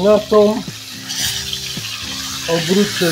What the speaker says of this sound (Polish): O, mięso mi się tu smaży.